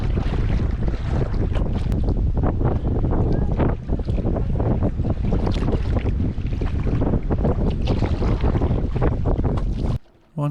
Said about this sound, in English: Unfortunately, the wind did pick up quite a bit while we were out.